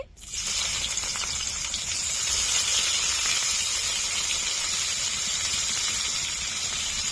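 Whole cumin seeds and chopped onion frying in hot oil with dried red chilli and bay leaf, a loud steady sizzle that jumps in sharply after a brief quiet start and holds evenly throughout.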